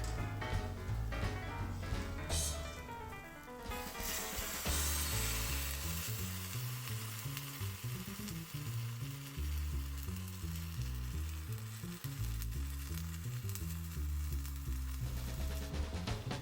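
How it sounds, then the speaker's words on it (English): Stock goes into a hot pot with sesame oil for Korean soft tofu stew, sizzling softly under loud rhythmic background music that dominates throughout. "and add some sesame oil. Add the stock."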